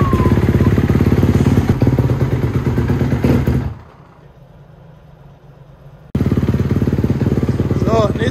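A motorcycle with an extremely loud exhaust runs close by with a harsh, throbbing roar. It drops away for a couple of seconds, then bursts back in at full loudness.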